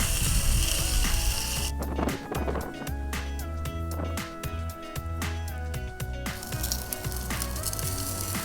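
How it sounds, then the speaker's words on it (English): Lamb ribs coated in Korean sauce sizzle meat-side down in a cast iron pan as the sauce caramelises; a dense, steady crackling hiss swells at the start and end, with clicks and a musical tone layered over it in the middle. "we're going to flip these back onto the meat side and see if we can caramelise this Korean sauce a little bit"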